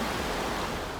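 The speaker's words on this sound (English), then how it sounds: "So this is the river right behind our resort" A river flows behind a resort at night in Alaska, a steady dense rushing wash of water filling the whole moment, close and uninterrupted.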